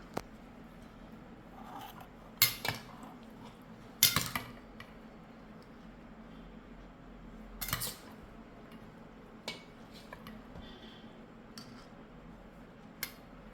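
Cabbage, cucumber and carrot salad served with cutlery, a few scattered metallic clinks and scrapes against a dish over a quiet background, close with long gaps and no speech.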